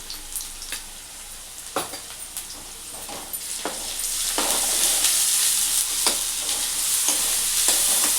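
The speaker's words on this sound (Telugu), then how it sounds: "ఇది కొంచెం మంచిగా గోల్డ్ కలర్ వచ్చేంత వరకు ఈ ఉల్లిగడ్డ వేయించుకోవాలి" Sliced onions fry in a pan with ginger garlic paste and turmeric, sending up a steady high hiss that swells louder about halfway through, broken by regular scraping strokes of a spoon stirring the pan.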